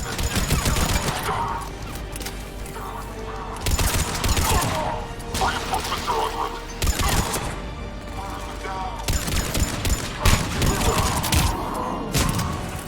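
Rapid gunfire in the video game Mass Effect 3, with loud bursts of shots in repeated volleys during a firefight and brief pauses between them.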